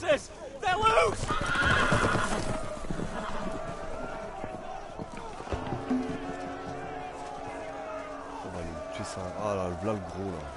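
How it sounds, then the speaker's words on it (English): Loose horses whinny loudly and gallop in the Telltale Game of Thrones video game, a sharp neigh up front followed by drumming hoofbeats, with shouting voices and music. "The horses! They're loose!"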